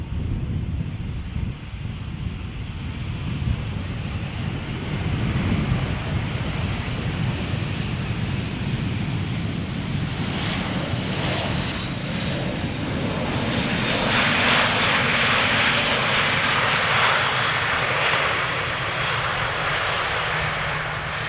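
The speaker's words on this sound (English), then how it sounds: "This is Lufthansa and Star Alliance livery arriving from Munich, A319, flight 2302." A Lufthansa Airbus A319 in Star Alliance livery arrives at Schiphol Airport from Munich, its loud jet engine roar building steadily over about twenty seconds, with some wind buffeting the microphone outdoors.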